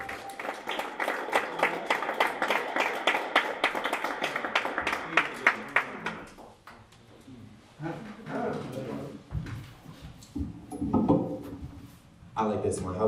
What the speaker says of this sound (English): can we please give a big round of applause for the player